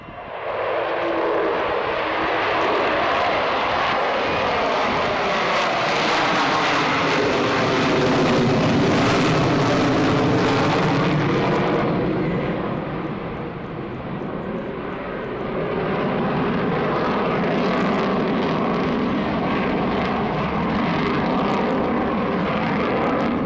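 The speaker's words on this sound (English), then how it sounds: "Magnificent sound of 4 Rolls-Royce Olympus 202 engines" Avro Vulcan bomber with four Rolls-Royce Olympus 202 engines, roaring loud and continuous during a spiral climb at an air display, a broad jet rumble whose pitch sweeps and swells as the aircraft turns overhead.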